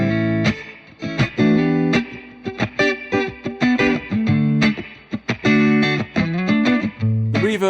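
Electric guitar played through a small Electro Harmonix Class D amp on its mid-drive setting, with a pushed clean tone and reverb: busy strummed chords and picked notes, loud and close, with no talking.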